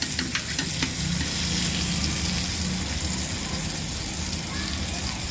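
Boi mullet fish frying in a home kitchen pan give off a dense, continuous sizzle with a few clicking taps early on as the pieces are turned, the crackle holding steady and close throughout.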